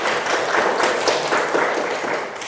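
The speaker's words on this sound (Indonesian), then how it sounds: "Oke, tepuk tangan buat kalian." A classroom of students clapping together, a dense, fairly loud patter of hands that continues steadily from start to finish.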